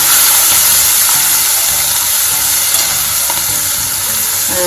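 A ginger, garlic and green chilli paste with turmeric sautés in hot oil in a pan, a loud, close, steady hiss and sizzle with faint crackles throughout.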